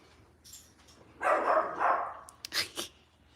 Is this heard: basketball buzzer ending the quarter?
no